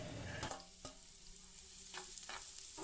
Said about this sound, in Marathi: आता इथे मी पहिली कांदा आणि कढीपत्त्याची फोडणी घातली आहे